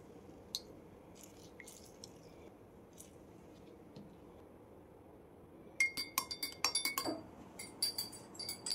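A spoon clinks against a glass of lemon and honey water in a quick run of light, close taps near the end, after a quiet stretch with faint scattered clicks.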